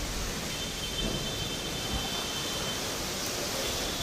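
Steady rain falling on a hillside home during a monsoon storm, a dense continuous wash of noise with a low rumble of thunder underneath, even and unbroken throughout.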